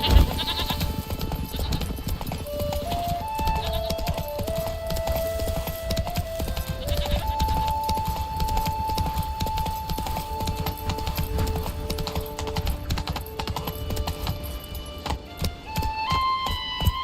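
The video game horse Roach trots with steady, rhythmic hoof clip-clops, moderately near, carried under a melodic game music score the whole way through.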